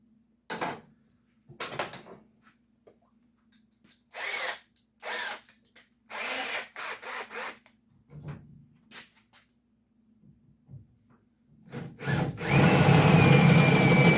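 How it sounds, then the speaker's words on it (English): A power drill bores holes for the tailgate striker plate on a 1951 Chevy pickup: several short, sharp bursts with pauses between, then a louder sustained run at the end. "then we'll drill some holes"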